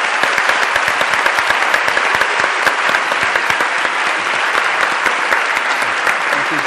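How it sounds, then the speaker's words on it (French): Sustained audience applause at the close of an evening conversation event with artist Anish Kapoor, dense steady clapping from many hands filling the room without pause, loud and near throughout. "je vous demande d'applaudir nos"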